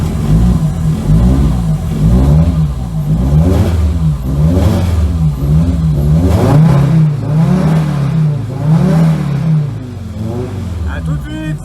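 An Audi S1 Sport Quattro Evolution 2 Group B rally car accelerates hard, its engine note rising and dropping repeatedly through quick gear changes, loud and close throughout.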